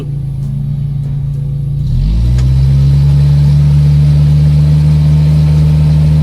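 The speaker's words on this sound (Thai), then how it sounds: "ล้อหมุนข้างนี้ข้างเดียวนะครับ" A Mitsubishi Triton pickup's engine idles, then climbs at about two seconds into a loud, sustained revving drone as one wheel spins freely on concrete while the other stays loaded. The sound is close and steady, with no talk.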